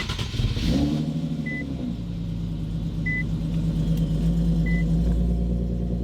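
A supercharged Infiniti Q50 engine starts roughly: a loud, uneven cranking burst and lurching revs in the first moments, then it settles into a deep, steady rumbling idle close by.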